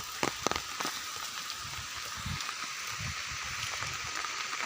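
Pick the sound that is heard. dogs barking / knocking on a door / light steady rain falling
light steady rain falling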